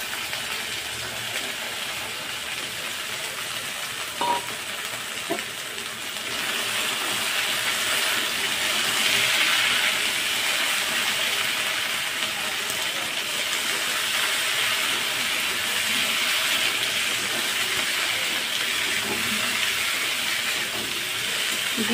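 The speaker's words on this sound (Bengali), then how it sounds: "তো আমি কেটে রাখা সবজিগুলো এবার কড়াইয়ের মধ্যে দিয়ে দেবো।" Chopped vegetables for a Malabar spinach (pui shak) dish hit hot oil in a wok and sizzle with a steady, bright hiss. It swells louder after a few seconds, with a couple of faint clicks early on, and no one talks.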